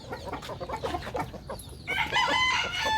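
Chickens cluck repeatedly nearby in quick, choppy bursts, growing louder and busier toward the end.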